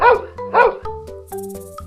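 A robotic dog barks twice in quick succession, loud and close, followed by whimpering and synthetic tonal sounds, with no talking.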